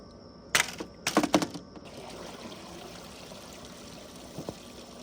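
Water draining from a robotic pool vacuum cleaner for a Coleman above-ground pool, a few short splashing gushes early on, then a quiet trickle with a faint late splash.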